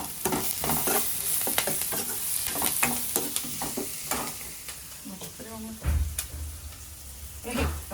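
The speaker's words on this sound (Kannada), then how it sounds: "ಇವಾಗ ಇಲ್ಲಿ ಹೆಸರು ಕಾಳಿಗೆ ಒಗ್ಗರಣೆ ಹಾಕ್ತಾ ಇದ್ದಾರೆ." Mustard tempering crackles and sizzles in hot oil for a green gram curry, with rapid popping bursts and stirring scrapes, close and lively, ending in a heavier hiss.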